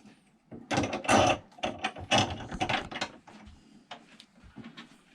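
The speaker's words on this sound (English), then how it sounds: "And screw the nut on." Close, uneven scraping and clicking as a nut is hand-threaded onto the shank of an RV sink faucet from beneath, in short bursts with brief pauses.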